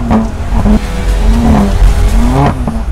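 A car drifts on the Michelin test track at Ladoux, its engine revving hard and close while tires squeal in repeated bursts, loud and alone.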